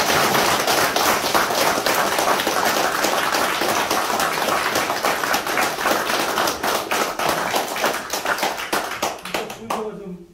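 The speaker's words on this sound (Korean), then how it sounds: "박수 한번 크게 치시고" Loud, dense clapping from a large crowd at a political campaign office closing ceremony continues steadily for several seconds, then thins out and stops.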